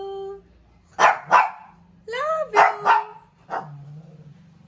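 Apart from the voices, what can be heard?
dog barking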